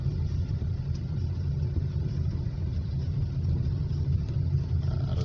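A 2012 Hyundai Accent with a repaired ECU drives slowly in traffic, heard from inside as a steady low engine rumble with road noise and no talk.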